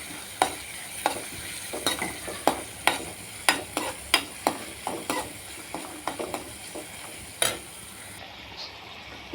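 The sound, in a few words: shallots, garlic, ginger, green chilli sautéing in coconut oil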